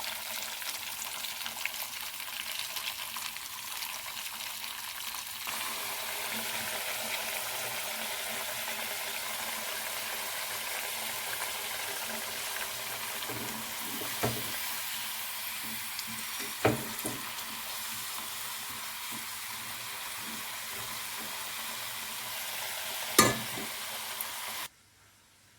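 Cassava snack deep-frying in hot oil, a steady close hiss of bubbling throughout with a few sharp ladle knocks, stopping abruptly at the end.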